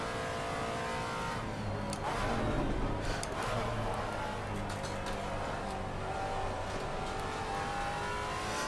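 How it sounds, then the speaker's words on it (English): In the video game Assetto Corsa Competizione, a Maserati MC GT4 race car engine drones steadily at Monza with rising and falling revs, continuous and fairly distant, with a brief surge in loudness early on. "the engine so definitely makes up for the car. Sounds phenomenal."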